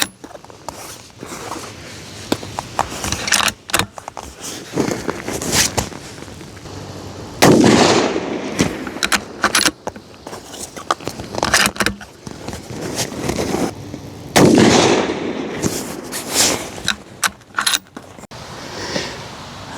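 Rifle fitted with an LPVO scope fired at 50-yard targets on an outdoor range, with sharp, loud reports, two especially heavy ones, among clattering handling noise and shorter cracks.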